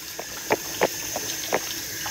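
Hot water runs into a cup in a home kitchen, a faint steady trickle with a few soft splashy bursts over a constant background hum.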